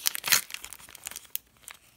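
A small plastic packet of a toy doll collection is torn open, giving a burst of loud crinkling and tearing up close, then lighter scattered rustles.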